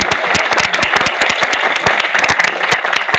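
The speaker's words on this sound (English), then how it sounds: "Let's have a huge round of applause for all the panelists" A conference audience at a finance conclave applauds the panelists, with many distinct hand claps standing out crisply over a busy bed of clapping, loud and close, sustained at an even intensity.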